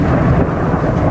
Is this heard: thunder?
yes